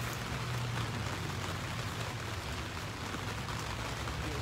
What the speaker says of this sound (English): Just a little rain, huh?